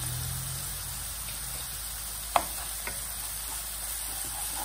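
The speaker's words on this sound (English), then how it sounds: "And immediately we'll add this ginger garlic paste." Ginger garlic paste meeting hot oil with translucent onions and asafoetida, giving a steady close sizzle and fry hiss, with one sharp clink of a spoon against the pan and a fainter tap afterward.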